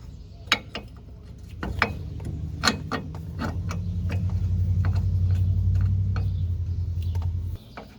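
A bolt and nut threaded onto a track bar on a 1999–2004 Ford Super Duty, with a string of sharp metallic ticks and clicks over a steady low mechanical hum, close up.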